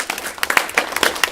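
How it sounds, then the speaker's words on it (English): Audience applause at a swearing-in ceremony, a brisk round of clapping from a modest crowd, close and lively, with individual claps standing out through the short burst. "let's give him a round of applause"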